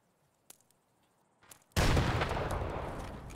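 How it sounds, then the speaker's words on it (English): A grenade goes off in Escape from Tarkov as one loud, sudden blast that rolls on into a long rumbling decay, after a few faint clicks and a brief shuffle. "It's a grenade."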